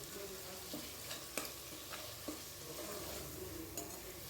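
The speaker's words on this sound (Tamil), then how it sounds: "இப்போது எல்லாத்தையும் சேர்த்து நல்லா கலந்து விட்டுக்குவோம்" Turmeric, rock salt and a curry mixture for a brinjal and jackfruit-seed curry stirred in a pan, with steady sizzling and several soft spoon scrapes and knocks spread through the clip, no talking.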